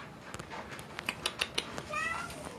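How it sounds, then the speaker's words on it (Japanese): A young kitten, about a month old and living with its mother's litter, gives a few short, quiet meows in a home, with light background noise and no talking. "子、うん、猫ちゃんです。"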